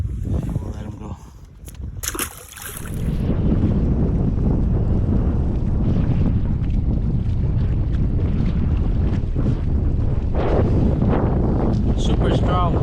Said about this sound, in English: Super strong wind right now.